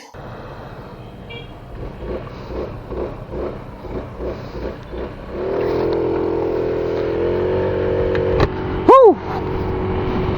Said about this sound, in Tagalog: Tara, ride na natin tong Euro Easy 125i EFI.